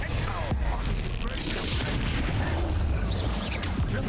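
A Confringo spell explodes in the video game Hogwarts Legacy: a burst of booming blasts and crackling pops rolls on for a few seconds, fairly quiet overall.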